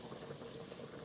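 Mushrooms seasoned with black pepper sauté in a frying pan, giving a brief, faint, steady bubbling sizzle.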